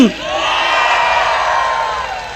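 Crowd at a political rally in Samut Songkhram, Thailand, cheering and whooping loudly, a sustained roar of many voices close by throughout.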